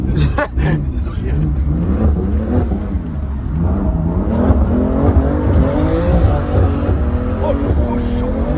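A BMW M3 accelerates hard, its engine revving up through rising, shifting tones, loud and close, with people talking over it.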